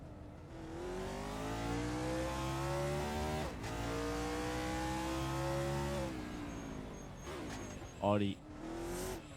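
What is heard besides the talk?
race cars accelerating at Baku in a racing video game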